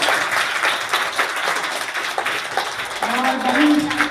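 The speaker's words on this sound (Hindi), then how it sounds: "तालियों से स्वागत" Applause from a gathered audience welcoming school staff at a village school event in Chhindwara, a continuous dense patter of many hands clapping, moderately loud, with voices faintly mixed in toward the end.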